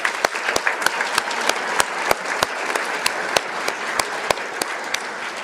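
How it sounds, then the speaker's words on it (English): Audience applause at a school commencement ceremony, a steady wash of many hands with sharp individual claps standing out, fairly close and sustained throughout. "Let's give a round of applause for all 3, please."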